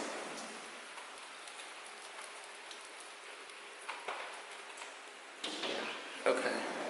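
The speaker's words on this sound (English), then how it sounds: "Y'all, it is raining." Steady rain patters outdoors in San Diego, a soft continuous hiss with occasional louder drips and taps, growing a bit stronger near the end.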